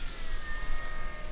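The electric motor of a 1600mm RC Spitfire model plane whines steadily under power, a continuous high buzzing drone that holds fairly loud throughout over outdoor wind noise, with no talking.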